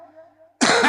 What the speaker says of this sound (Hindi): थोड़ा सा खांसिए